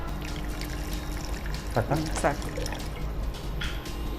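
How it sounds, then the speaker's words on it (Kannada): Water is poured into a mixer grinder jar with a light, trickling splash, while a person talks over it and briefly speaks a word in the middle. "ಸ್ವಲ್ಪ ಇದಕ್ಕೇನೆ ನೀರು ಹಾಕಿ ಮಿಕ್ಸಿಗೆ"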